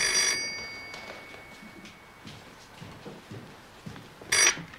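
A telephone rings in a radio drama, two short bursts of bright electric bell ringing at the start and near the end, separated by a quiet room-tone gap with faint rustles.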